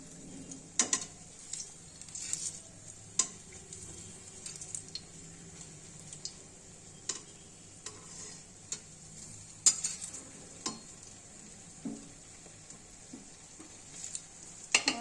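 Egg muitha, dumplings made with a potato batter, frying in oil, a quiet steady sizzle broken by frequent light clicks and taps of a utensil against the pan.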